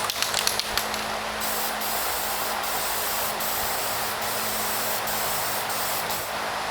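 Spray paint hisses steadily onto a small block Chevrolet engine block as a thicker final coat goes on. One loud, continuous, close spray runs almost the whole time, with brief sputters at the start.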